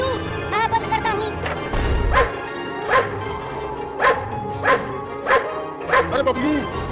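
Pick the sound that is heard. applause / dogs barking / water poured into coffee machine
dogs barking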